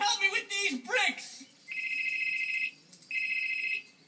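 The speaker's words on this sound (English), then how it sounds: "Oh my goodness, it's my cellular phone." A cell phone rings in two long, steady electronic bursts with a pause between them, heard just after a person speaks; the rings are clear and fairly loud.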